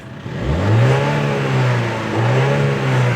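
A Mini car engine revs loudly twice, rising and falling in pitch, close and steady with no voices.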